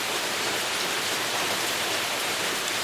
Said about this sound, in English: He likes the rain too.